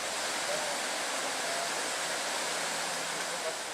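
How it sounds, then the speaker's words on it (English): A waterfall being climbed by a Jeep: a steady, full roar of falling water holds close and even throughout, with no voices. "now this Jeep wants to climb this waterfall"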